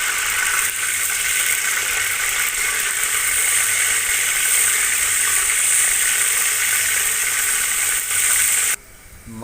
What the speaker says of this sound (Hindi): ये देखें जी, फुल आवाज़ आप लोगों को आ रही होगी घी की